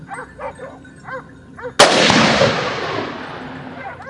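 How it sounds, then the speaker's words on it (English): A loud gunshot rings out during a wild boar hunt, one sharp close blast followed by a long rolling echo, after several dogs bark in short rhythmic bursts. "shots echoed from other directions, signaling that more targets have been taken down"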